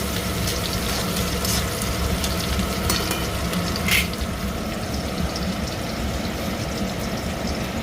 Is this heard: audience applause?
no